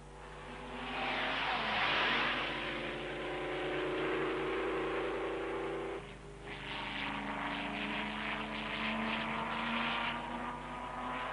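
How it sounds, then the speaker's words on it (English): Auto Union Grand Prix racing cars speed uphill toward a carousel turn. Their engines make a loud, continuous roar that dips briefly near the middle and then surges again, with no talking. "The cars rush uphill to the carousel turn."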